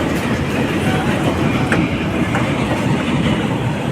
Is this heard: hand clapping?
no